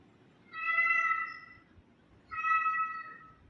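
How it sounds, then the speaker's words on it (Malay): A cat meows twice, two drawn-out, clear tonal calls separated by a short pause, close and with no other sound around them. "Bunyi kucing"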